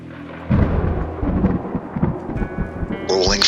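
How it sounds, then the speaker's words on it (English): Rolling thunder rumbles outside a shopping center on a foggy night, low and sustained with a few heavier booms, and a faint higher tone enters near the end. "Rolling thunder echoes from outside."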